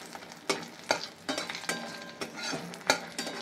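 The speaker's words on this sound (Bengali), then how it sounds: "বড়িটা ভেজে নিই, বড়িটা শুকনো ভেজে তারপরে তেল দিলে ভালো হতো" Dried lentil dumplings (bori) fry in a pan, a constant sizzle broken by several sharp scrapes and knocks of a spatula stirring them, close and without voices.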